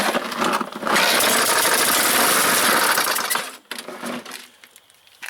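A cheap Murray lawn mower engine fires after a pull and runs loud and rough for a few seconds, then sputters and drops to a lower, uneven note.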